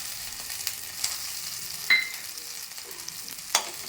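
A teaspoon each of coriander seeds and cumin seeds dry-fry in a pan with a steady, bright sizzling hiss, punctuated by a few clinks and scrapes of stirring, close and fairly quiet with no voices.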